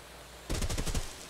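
A gun fires a single rapid automatic burst of about half a second in the battle royale game Fear the Wolves. The burst is fairly close and clear against quiet background ambience.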